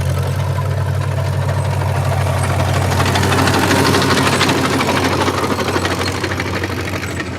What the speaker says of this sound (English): Got this Caterpillar D4 has been out here plowing.